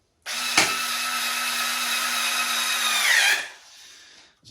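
A cordless drill drives a screw into a baby rocker, its motor whining steadily for about three seconds before spinning down, with a short trailing rattle afterward, close and loud.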